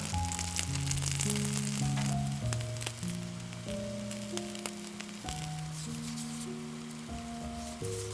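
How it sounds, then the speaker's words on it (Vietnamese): Food sizzles steadily in a covered pan over medium-low heat, a continuous crackling hiss beneath light background music. "Đậy nắp lại và tiếp tục chiên ở lửa nhỏ vừa trong khoảng 5 phút"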